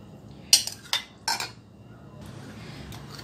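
A spoon clinks against a bowl as yogurt is mixed into a chicken marinade of salt, ginger-garlic paste and white pepper for white khurma: a few close metallic knocks, then soft, steady stirring.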